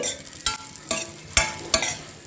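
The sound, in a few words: dry fruits frying and being stirred in a hot pan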